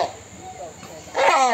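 A large hornbill at a zoo in Kaamulan Park calls out with a loud, harsh, bark-like burst near the end, after quieter mixed background sounds and faint earlier calls.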